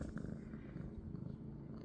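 A cat purrs close by as a steady, continuous low rumble with a soft rhythmic pulse, heard alone without talk.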